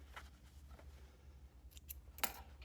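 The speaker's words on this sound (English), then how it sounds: "snip those threads" Scissors snip sewing threads on a box blazer during garment construction, giving a few faint, quick cuts over a low room hum.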